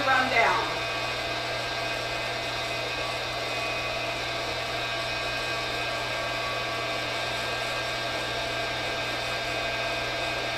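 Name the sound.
coffee roasting machine running its cooling cycle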